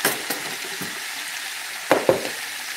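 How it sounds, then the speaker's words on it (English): Half cup of butter sizzles and spits in a hot frying pan close by, a steady crackling hiss broken by a few sharp pops and utensil clinks. "About to burn my butter, y'all."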